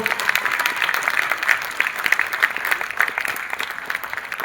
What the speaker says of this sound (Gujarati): જોરદાર તાળીઓના તાલ સાથે આપણે વધાવશું.